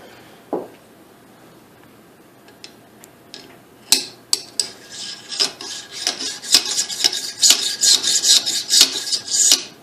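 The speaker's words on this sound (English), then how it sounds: "pull more grease, I think, on this charging handle. So that thing really slides in there." A greased rifle charging handle is worked in and out during a build, giving a series of sharp metallic scrapes and clicks that grow denser and louder toward the end, close up and with no talk.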